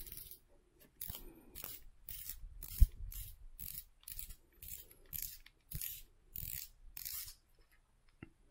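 The star clicker on a baitcaster fishing reel gives off about a dozen short bursts of rapid ratcheting clicks, close and fairly quiet, each separated by a brief pause.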